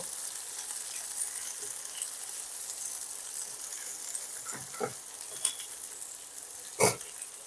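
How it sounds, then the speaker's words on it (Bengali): Chopped onion fries in a pan with a soft, continuous sizzle, broken by a few faint clicks and one sharper clatter near the end. "একটা মিডিয়াম সাইজের পেঁয়াজ কুচিয়ে নিয়েছিলাম সেগুলোকেও একই সঙ্গে ভেজে নেব আমি"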